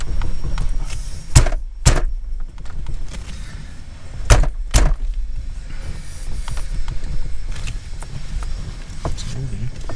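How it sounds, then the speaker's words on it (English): A Crown Vic steering wheel is jerked back and forth by hand, giving a few sharp knocks and clunks in pairs amid rustling handling noise. "if you don't have a puller, a lot of times you can shake the steering wheel back and forth"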